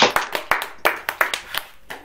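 Congregation clapping hands at a Pentecost youth fellowship service, a run of about a dozen sharp, fairly close claps in a loose, uneven rhythm, with voices mixed in.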